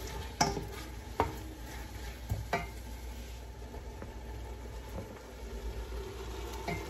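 Onions and tomatoes frying in a pan, a quiet steady sizzle broken by several sharp clinks and scrapes of a spoon stirring against the pan.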